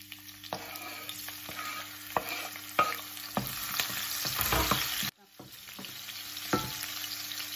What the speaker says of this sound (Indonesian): Sekarang kita goreng cabenya.